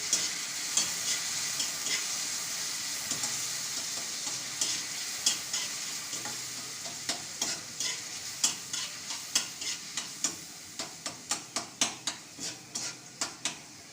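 A spoon stirs tomatoes and spices frying in a pan, with a soft sizzle underneath and a run of clinking metal scrapes that grow quicker and more regular toward the end.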